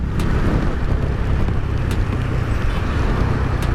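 A Bajaj Dominar 250 motorcycle cruising in top gear sends out a loud, steady low engine drone mixed with rushing wind, unbroken for the whole stretch.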